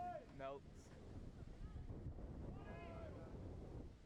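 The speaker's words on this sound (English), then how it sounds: "Sorry for the wind if you can hear it over the thing." Wind gusts across an outdoor lacrosse field at Logan Field in Tonawanda Reservation, a continuous low buffeting rumble against the microphone, with brief voices and faint calls at moments over the steady blowing.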